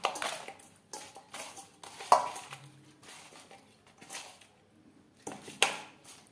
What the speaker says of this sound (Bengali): লবণ হলুদ মাছে বেশ ভালো করে মেখে নেব।